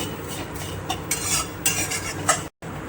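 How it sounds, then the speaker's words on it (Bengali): A utensil scrapes and stirs through vermicelli frying in ghee in a pan, with repeated soft clinks and a faint sizzle underneath, no voices. "এবার ঘিয়ের সাথে ভালো করে নেড়ে নেব"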